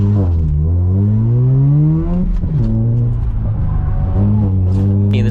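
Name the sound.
car accelerating during an autocross run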